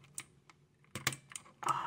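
Keycaps are pried off a computer keyboard without a removal tool, making a quiet run of plastic clicks and snaps that ends in a louder scraping pop.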